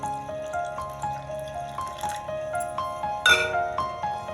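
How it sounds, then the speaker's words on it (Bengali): Water from a grinding stone is poured into a spiced batter for stuffed eggplant fritters, giving a close, trickling, dripping splash with bright ringing tones and a sudden louder splash near the end, with no one speaking. "আমি যে সিলে মশলাটা বেটেছিলাম সেই জলটা এতে দিয়ে দেব।"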